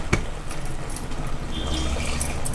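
Water is poured into a rinsed mixer grinder jar, a brief wet splash near the start followed by a light, steady trickle, heard close and alone without any speech.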